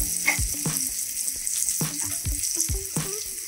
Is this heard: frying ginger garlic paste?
yes